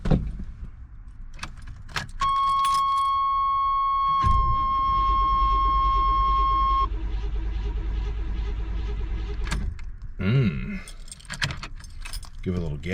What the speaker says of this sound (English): let's give this 350 a cold start and see what she does